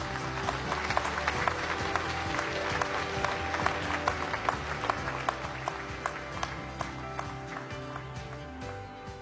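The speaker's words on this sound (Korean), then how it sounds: "모두 큰 박수로 맞아주시기 바랍니다" Audience applause at a Constitution Day commemoration ceremony in Korea, a dense, steady wash of clapping from a large crowd with sustained musical tones running underneath throughout.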